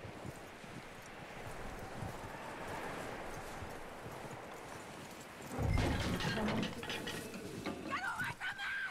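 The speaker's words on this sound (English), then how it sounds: "That looks like a decent horse." Horse hooves clip-clopping in the video game Red Dead Redemption 2, a soft steady rhythm of hoofbeats under rustling ambience that grows louder and busier toward the end.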